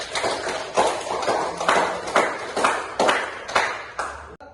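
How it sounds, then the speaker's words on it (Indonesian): A classroom group claps in a steady rhythmic pattern for a student, about eight sharp, evenly spaced bursts of hands striking together, close and moderately loud with no talking. "Selamat tepuk tangan untuk pelajar yang belajar."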